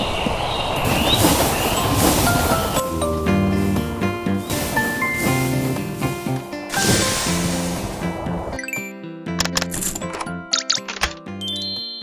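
A train moving along a track in Minecraft, rolling toward a wood factory station, heard as steady mechanical rumble with bright chiming tones and clicks layered over it, thinning out toward the end.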